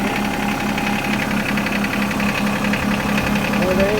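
A John Deere lawn tractor engine idles steadily after starting, a loud, even mechanical chugging with a regular pulsing rhythm close by, running throughout.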